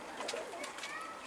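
Soft cooing of homing pigeons, a few low murmuring calls close by, over a faint steady background hiss.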